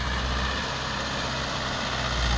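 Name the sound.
Mahindra 575 tractor engine running in second low gear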